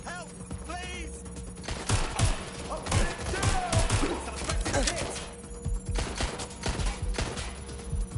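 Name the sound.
gunfire in the video game Watch Dogs: Legion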